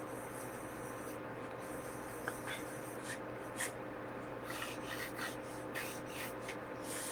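Pencil sketching a nose on paper, soft close scratchy strokes in short irregular bursts over a steady low background hum.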